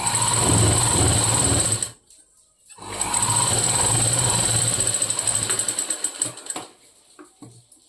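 Sewing machine stitching a boat neck blouse, a steady close whirring run that stops briefly, starts again and then slows into a few separate stitches.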